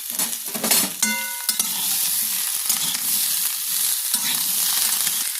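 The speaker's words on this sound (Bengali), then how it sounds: "এবার এর মধ্যে আমি এই সবজিগুলোকে দিয়ে দেবো। একটু ভাজা ভাজা করে নেব।" Spinach stems and vegetables frying in a pan, a dense, steady sizzle that starts after a few clanks of utensils and carries on close and loud with scattered stirring scrapes.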